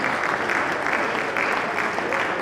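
Sustained audience applause at an engineering conference in Ilorin, a dense steady wash of clapping filling the room at even loudness throughout.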